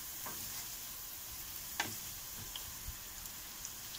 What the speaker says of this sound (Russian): Так, мясо продолжает у нас шкварчеть.